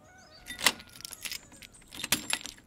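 Keys jangle and clink in a lock as a door is unlocked, with a run of sharp metallic rattles and a couple of louder clacks, close and clear.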